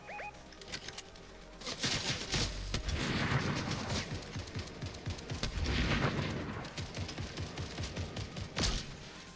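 Rapid bursts of lock-on pistol fire in the Fortnite video game, dense crackling volleys of shots in quick succession with short pauses, loud and close, with no talk.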